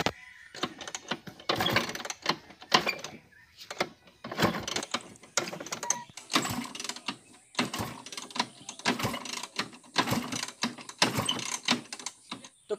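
A Chetak scooter that won't start is kicked over and over, each kick a loud mechanical clatter and ratcheting rattle in an uneven series, close up, with short pauses between attempts.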